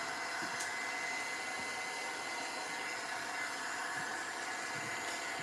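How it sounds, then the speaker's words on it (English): A heat tool blows hot air over a mixed-media journal page, a steady, loud whirring hum with an airy hiss that holds constant throughout, no talking. "And now I would be drying just to make sure."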